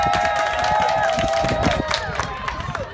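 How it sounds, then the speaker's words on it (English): An audience at a San Diego Somali Bantu fundraising event claps and cheers, a dense, loud wash of applause and crowd noise with voices mixed in. "So let's also give a round of applause and support for his staff."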